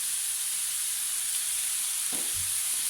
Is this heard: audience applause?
no